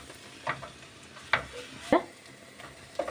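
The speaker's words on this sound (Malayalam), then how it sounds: "പച്ചമണം ഒന്ന് മാറുന്ന വരെ ഒന്ന് വഴറ്റി കൊടുക്കാം" Curry ingredients being sautéed in a pan for chicken parts curry, a faint low sizzle broken by a few sharp, separate scrapes of a spoon against the pan.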